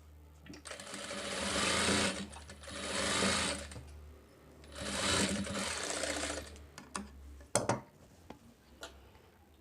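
A sewing machine stitching a katori blouse runs in three steady bursts of rapid mechanical clatter, close and fairly quiet, followed by a few sharp clicks and ticks as the fabric is handled.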